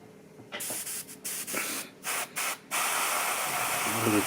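An aerosol can sprays paint onto a wheel of a 1/16 StuG III model tank kit in short hissing bursts with brief pauses, then a longer continuous spray, close to the microphone.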